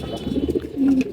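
Pigeons at a house loft give a few low, rolling coos, close by, swelling into a longer drawn-out call before fading.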